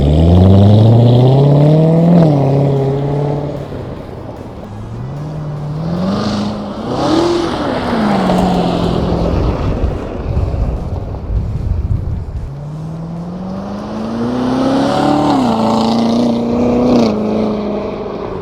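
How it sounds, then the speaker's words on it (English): A 2017 Chevrolet Corvette Z06 sweeps past in a loud flyby, its engine note climbing and falling through several sharp revving pulls and gear changes, swelling close and then fading. "So are we ready to do a real flyby?"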